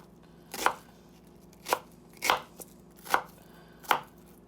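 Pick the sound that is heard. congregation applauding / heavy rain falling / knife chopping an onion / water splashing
knife chopping an onion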